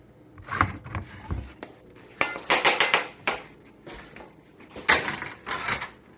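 Knife cutting Irish colcannon potato cakes into thirds on a board, several close clattering knocks and scrapes against the surface in uneven bursts, with no talking.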